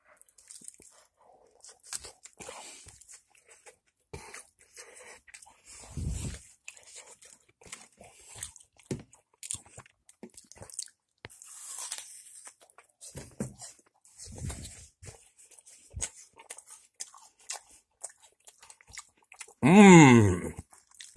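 Someone chews and bites apple pie pizza up close, with wet crunchy mastication in scattered bursts and pauses, ending in a louder burst of sound.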